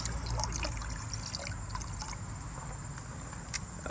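Dissolved worm tea mixture is poured into a bucket outdoors, a steady trickling, splashing flow of liquid heard at moderate distance for a few seconds.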